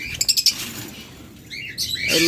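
Lovebirds offered in pairs at a bird sale give a quick burst of sharp chirps, then a few shriller calls after a short lull, close and clear against a quiet background.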